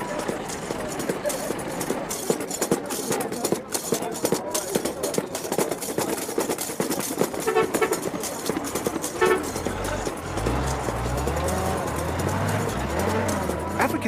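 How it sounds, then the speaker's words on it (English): Colourful African desert bus horn honking in short toots from a crowded bus, heard under continuous talk and rumbling road noise, with a louder low drone near the end. "And you've got to love that horn."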